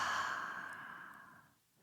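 A single long, deep exhale flows out softly through the mouth like a gentle sigh, close and quiet, and fades away to near silence after about a second and a half.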